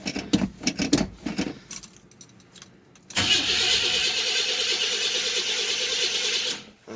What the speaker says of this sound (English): Alright, cold start.